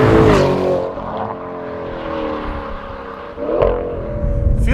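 Twin-turbo engine of a modified 2015 Audi S6 with a dual-clutch gearbox, rising in pitch, dropping briefly at a quick gear change, then climbing again, loud and close from inside the car.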